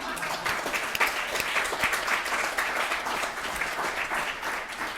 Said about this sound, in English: So now you may all applaud.